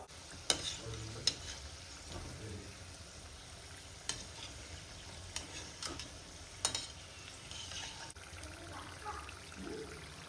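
Samosas deep frying in oil over a very low flame, a soft steady bubbling hiss with occasional sharp clicks and spatters, quiet and continuous with no voices.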